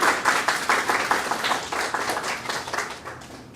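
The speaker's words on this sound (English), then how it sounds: "A round of applause for Dominique." An audience applauds continuously, a dense wash of many hands clapping at moderate loudness, fading slightly toward the end.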